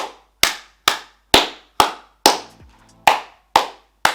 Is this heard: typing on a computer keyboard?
no